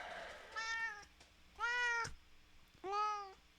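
A cat meows three times, clear, separate cries spaced about a second apart, fairly quiet against a low background.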